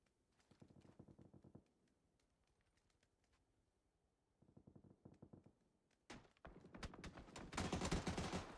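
Rapid bursts of gunfire from the battle royale game PUBG in a competitive scrim match, two short rattling volleys separated by a pause, then a longer, louder and denser stretch of shooting toward the end.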